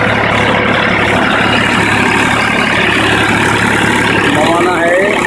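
A Massey Ferguson 245 DI tractor engine idles close by with a steady low rumble and constant drone, holding level throughout with a faint rising whine near the end.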